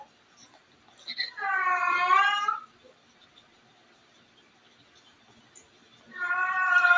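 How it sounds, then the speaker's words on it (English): Missy the cat gives two long, drawn-out meows, close and loud, separated by a quiet pause. "She's the one meowing."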